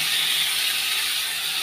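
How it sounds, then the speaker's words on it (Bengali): Fried egg and grated potato drop into hot spiced oil in a pan, giving a loud, steady, close hiss of sizzling that stays even throughout with no talking. "এখন এই যে ভেজে রাখা ডিমটা আর আলুটা দিয়ে দিচ্ছি"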